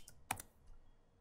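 A password is typed on a computer keyboard while setting up a network video recorder: a few quick, close, faint key clicks in a quiet room.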